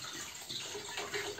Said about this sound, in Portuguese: Coloque 1 litro de água para ferver no seu fogão